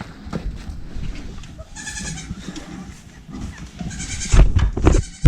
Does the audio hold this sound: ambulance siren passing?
no